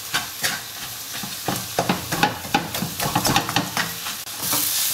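Onion and breakfast ingredients being stirred in a frying pan for a healthy English breakfast, an irregular run of scraping and clattering strokes over a soft sizzle, ending in a steady hiss, close with no talk.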